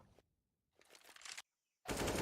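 Gunfire in the video game CS:GO: a quick burst of automatic shots, then a louder, rising burst that cuts off into silence, followed by a sudden dense blast of fire.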